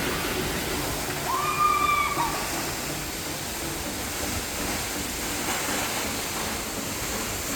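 Belkal Theertha Falls, a roughly 300-foot waterfall near Hulikal Ghat, pours with a steady broadband roar of falling water, even and unbroken, heard from close by with a faint bird call near the start.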